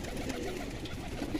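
Kamghar pigeons coo softly in a noisy loft, low murmuring calls buried in steady background rumble.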